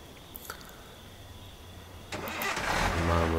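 A car engine in the video game Thief Simulator cranks and catches after a quiet pause, then settles into a steady, fairly loud running rumble, with no voices.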